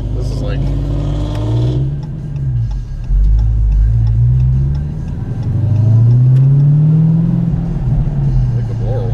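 A supercharged Dodge Hellcat revs from inside the cabin, its deep engine rumble rising and falling in long sweeps with a faint whine, under talk.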